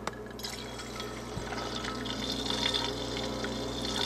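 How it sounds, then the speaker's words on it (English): A homemade stir plate spins a yeast starter in a covered vessel, giving a steady watery swirl and low motor hum that runs continuously and moderately loud, with a faint click near the start. "Put it on our homemade stir plate. Turn it on and see what happens here."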